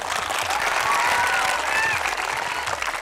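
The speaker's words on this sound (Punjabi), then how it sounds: "ਜ਼ੋਰਦਾਰ ਤਾੜੀਆਂ ਸਰ ਜੀ ਲਈ।" A school audience at Baba Gandha Singh Public School in Bhadaur, Punjab claps loudly and continuously for a teacher, a dense burst of applause lasting about three seconds.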